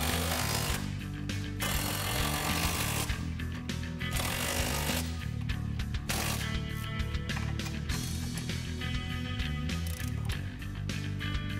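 Power tool tightening three strut tower bolts on a 2015-2019 Ford Mustang during a lowering spring install, loud close bursts of rapid impact hammering separated by short pauses.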